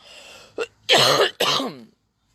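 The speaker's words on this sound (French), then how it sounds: "comme ça j'ai toussé, c'est fini" A person coughs several times up close, harsh and loud, with a brief pause between the bursts, then silence.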